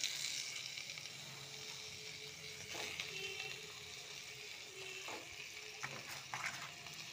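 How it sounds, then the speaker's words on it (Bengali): Onions fry in a pan with a soft continuous sizzle, broken by a few faint clinks and stirring sounds, and no voices. "পেঁয়াজটা ভাজা হোক।"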